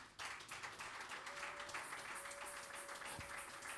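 A church congregation at a Sunday service applauds the Lord, a steady wash of many hands clapping, faint and distant, with a low murmur and a brief tone beneath.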